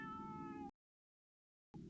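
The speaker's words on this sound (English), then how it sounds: "That cat is still my longest serving companion." A cat in the video game Space Pilgrim gives a short tonal meow, then the sound cuts to silence before a brief trailing mew returns at the end.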